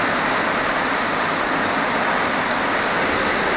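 Heavy evening rain drums on a tin sheet roof in Vizianagaram as a dense, unbroken roar of close, loud hiss with no voices.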